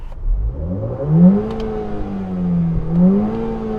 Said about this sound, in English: let's have a listen to the sound of these newer cars